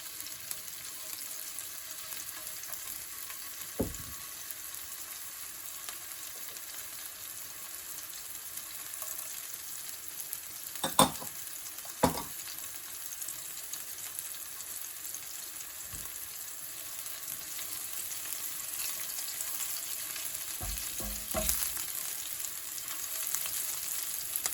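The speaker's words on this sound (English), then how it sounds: "add the chilies and fry for 30 seconds before adding the curry leaves and continue to fry for another" Green chilies and curry leaves frying in oil in a pan, a faint continuous sizzle with a few sharp utensil knocks scattered through, no talking.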